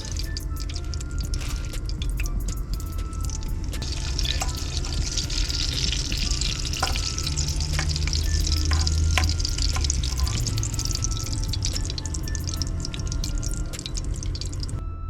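Tortillas for chicken enchiladas sizzle steadily in hot oil, a dense, constant close crackle with scattered sharp pops and faint utensil scrapes throughout.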